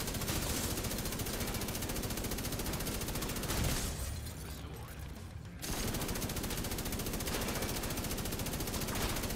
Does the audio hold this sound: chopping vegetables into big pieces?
no